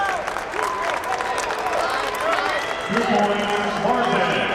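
A crowd at a college wrestling match applauds and cheers after a two-point takedown, with a broad wash of clapping under the commentators' voices.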